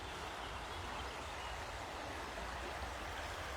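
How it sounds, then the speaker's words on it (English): The River Kelvin flows in a steady broadband rush of moving water, a constant close wash with no breaks or voices. "I think just the sound of the river just calms the mind."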